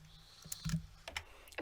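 Keys on a computer keyboard click in a short, irregular burst of a few quiet taps, close and soft with a faint background hiss.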